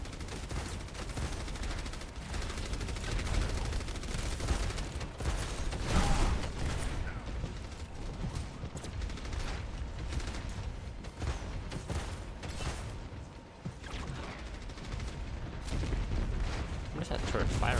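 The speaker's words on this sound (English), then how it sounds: "What is that turret firing at?" Rapid turret gunfire in a tank-focused video game, a continuous dense barrage of shots rumbling on through the whole stretch with a voice talking over it.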